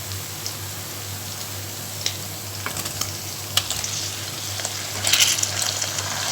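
Chopped garlic, ginger and tomatoes fry in a pan, a steady dense sizzle with a low hum beneath, broken by occasional louder crackles and a brief burst of spattering near the end.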